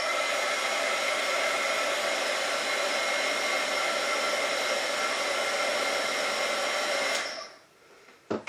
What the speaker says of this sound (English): So let me hit this with the heat gun.